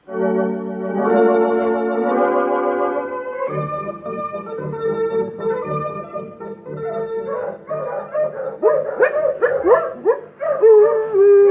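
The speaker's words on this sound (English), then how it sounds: "You just cheer up, little old puppy dog." A dog in an old-time radio drama howls in long, wavering tones, then breaks into a rapid run of yips and barks, loud and close.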